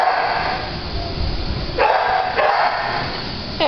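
Shelter dogs bark in a run of loud, close, sharp barks, with several outbursts overlapping against a noisy kennel background.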